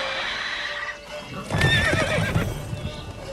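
Roach the horse in The Witcher 3 lets out a loud, close whinny and snort over clopping hooves, following a moment of steady ambient game noise.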